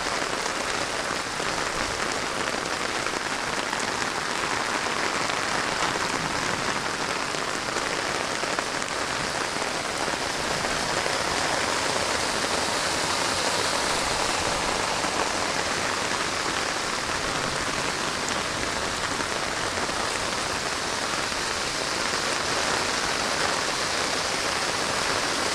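Heavy rain pours down in Bainda, a dense, unbroken hiss of drops on surfaces that holds steady and loud for the whole stretch, with no voices.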